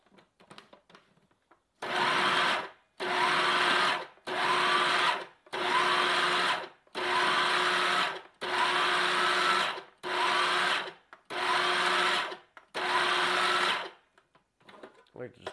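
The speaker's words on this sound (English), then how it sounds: "Now we're just going to blend it up." Olive tapenade is pulsed in a kitchen blender: eight loud, roughly one-second bursts of whirring motor separated by short gaps, with no talking.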